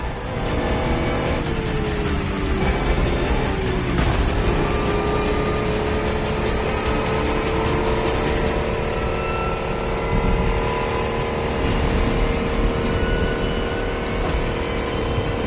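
An electric car in a video game races at warp speed through a storm, with monsters in pursuit. Its engine drone is loud and continuous, rising and falling in pitch across the whole stretch, with no talk over it.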